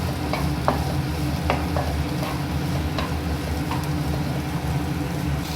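Onions stir-fry in a pan for restaurant-style Gobi Manchurian: a steady close sizzle with periodic spatula scrapes and taps against the pan.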